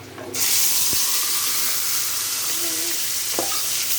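Small-stemmed greens drop into hot oil over reddened fried chillies, bursting into a sudden loud sizzle that settles into steady close frying, with a few scraping stir sounds and light clinks.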